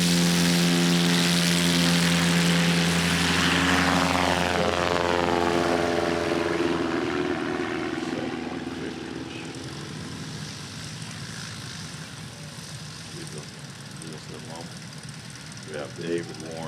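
A STOL competition airplane runs its propeller engine up to takeoff power, a loud steady droning roar that holds for several seconds, then fades and recedes into the distance as the aircraft departs.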